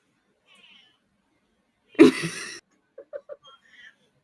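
A single short cat meow, fairly close and clear, followed by a few soft chuckles.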